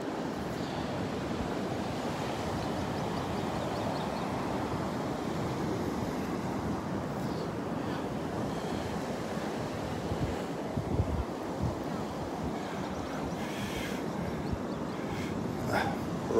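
Ocean waves break on a beach at Delnor-Wiggins, a constant rushing surf roar mixed with wind buffeting the microphone, steady and full throughout with no clear speech.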